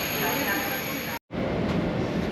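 Renfe AVE S100 high-speed train running on the line from Narbonne toward Barcelona, a steady loud broadband rumble and rush heard from inside the carriage, briefly cut by a moment of silence midway.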